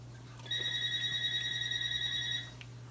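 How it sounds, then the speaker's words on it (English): A telephone rings with a steady electronic trill for about two seconds in a home kitchen where rice pudding is cooking, over a low constant hum. "I'm gonna let that phone ring."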